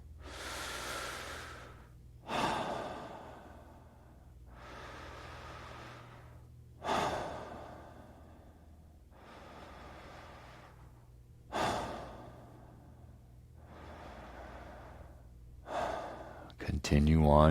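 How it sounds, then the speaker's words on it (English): Connected yoga breathwork: long, audible inhales and exhales repeat in a slow, steady cycle, close and clear, with sharper breaths marking each turn and a guiding voice speaking between them. "Continue to breathe. Connected breath."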